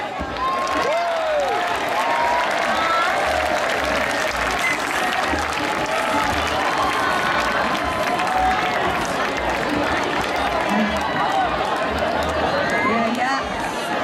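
A big crowd claps and cheers for three staff members at the finale of the Osaka Oktoberfest beer festival, continuous rhythmic applause with scattered voices and chatter running throughout.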